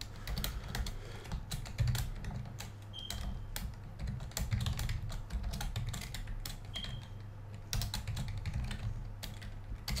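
Steady, dense typing on a computer keyboard while entering code, rapid close clicks continuing without pause, no talking.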